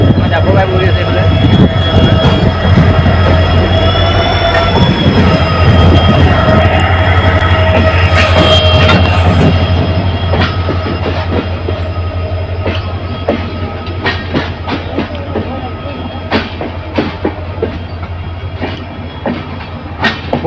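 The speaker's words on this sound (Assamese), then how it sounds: "ট্ৰেইন আহি আছে" A train passes close by near Dibrugarh: a loud, heavy rumble with high metallic wheel squeals, easing into rhythmic clicking of wheels over rail joints as it rolls on.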